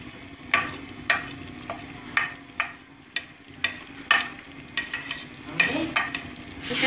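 Spices for chicken biryani fry in cooking oil with a soft sizzle, broken by a series of sharp spoon scrapes and clinks against the pot at irregular intervals of roughly half a second.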